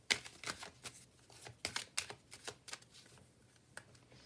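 Tarot cards being shuffled in rapid bursts of crisp riffling clicks and flutters, close up and quiet, with uneven gaps between the bursts.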